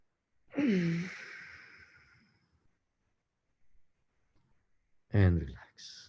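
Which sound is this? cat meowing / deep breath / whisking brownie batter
deep breath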